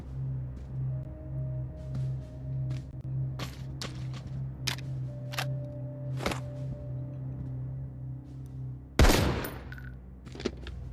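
Gunfire in The Walking Dead video game, a string of sharp separate shots spaced irregularly over a low humming background, ending in one much louder close blast near the end.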